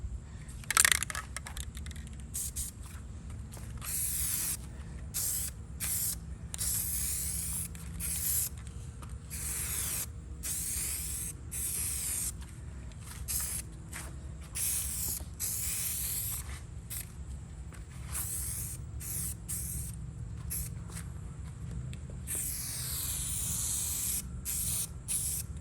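Black SEM trim paint sprayed from an aerosol can onto the window trim of a 1987 Ford Mustang GT Foxbody, heard as many short hissing bursts with gaps between them, close and clear, without talking.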